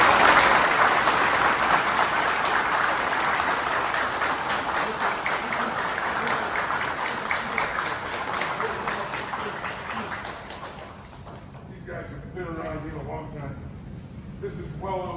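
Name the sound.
applause for judo promotion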